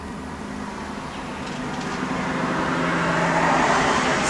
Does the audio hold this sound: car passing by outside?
yes